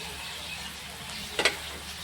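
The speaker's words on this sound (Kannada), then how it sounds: "ಇಷ್ಟನ್ನು ಹಾಕ್ಕೊಂಡು ನೀಟಾಗಿ ಇದನ್ನು ತಿರುಗುತ್ತೇನೆ ನೋಡಿ" Amaranth greens are stirred into egg bhurji frying in a pan, a soft steady sizzle with one brief scraping clatter of the spoon partway through.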